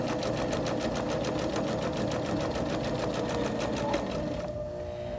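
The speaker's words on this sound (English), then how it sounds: "I'm just going to go ahead and sew" A sewing machine stitches a tote bag seam in a loud, steady, fast-pulsing run. The needle stops just before the end, leaving a quieter motor hum.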